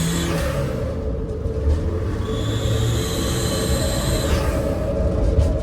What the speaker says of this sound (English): When I accelerate hard, it sounds like this.